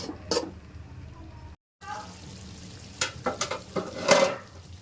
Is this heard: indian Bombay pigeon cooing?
no